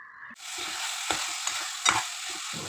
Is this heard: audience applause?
no